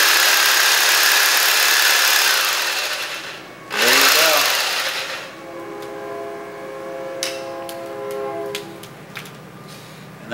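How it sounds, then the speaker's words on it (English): A saber saw powered through an inverter from a single 12-volt car battery, first a loud steady motor whine, then a brief drop and restart, then a quieter buzzing hum with a few clicks. "Now, I'm going to plug in my saber saw."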